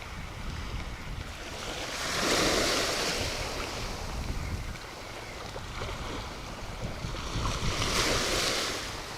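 Ocean waves crash on a Florida beach, two big surges swelling and breaking several seconds apart over a constant wash of surf and wind buffeting the microphone, close and loud, with no voices.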